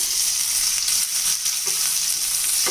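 Crushed garlic sizzles and crackles steadily up close in hot oil, a bright continuous frying hiss with a few faint stirring clicks.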